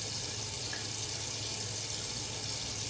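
Tap water runs steadily into a sink to wet a shaving brush, a constant close hiss with no pauses and no voices.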